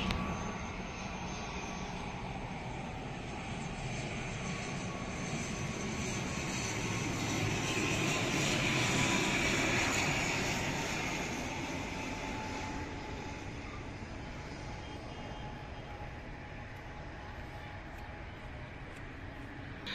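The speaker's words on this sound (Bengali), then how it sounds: "ঢাকায় অবতরণের জন্য এগিয়ে আসছে ইউএস বাংলা এয়ারলাইন্সের ATR 72700 মডেলের বিমান।" A US-Bangla Airlines ATR 72-700 turboprop approaching to land at Dhaka, a steady droning engine hum that slowly swells to a peak mid-clip and then fades as it passes, heard from the ground with no talk.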